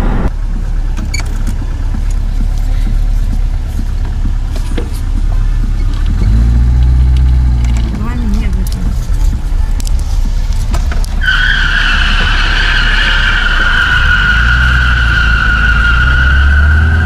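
A car drives off from a used-car lot in Cherkasy with a steady engine drone and road rumble, rising and shifting tones as it accelerates, and a high whine or squeal near the end.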